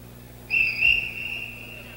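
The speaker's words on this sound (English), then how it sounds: "that whistle is called the 10-second buzzer. It's the sign for the seconds to get out of the ring" A boxing ring whistle sounding as the ten-second warning for the seconds to leave the ring, a clear high steady tone lasting about a second and a half, moderately loud over faint crowd murmur.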